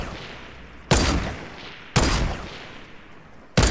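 Loud gunfire bursts in a Fortnite match, three sudden blasts with a gap of about a second or more between each. Each blast decays quickly, with no talking.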